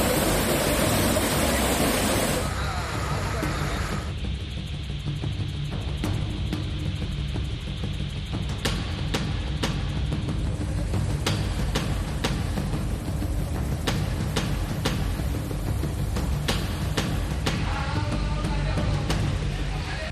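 Rain-swollen flooded river in Bilaspur rushing in a continuous loud roar of churning water, steady and close throughout with a few sharp clicks and knocks over the torrent.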